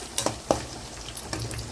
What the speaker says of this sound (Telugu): కొంచెం వేగాలి మంచిగా